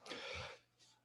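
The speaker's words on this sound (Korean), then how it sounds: "제가 방금 기침을 했는데요." A single short cough from a lecturer during a talk on healthcare and data science. It comes as one quiet, close burst followed by a faint trailing breath, with no speech in the clip.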